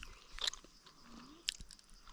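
Crunchy food is bitten and chewed up close in a quiet garden, two sharp crisp crunches standing out against soft background hush.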